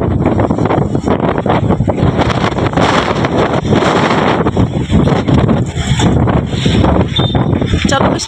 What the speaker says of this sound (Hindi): तेज हवा वनकस